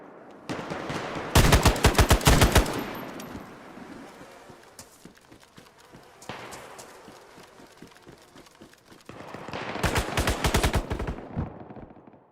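Two loud bursts of rapid automatic gunfire from a weapon in the video game DayZ, set in Chernarus, the first early and the second near the end, with quieter ambient noise between them.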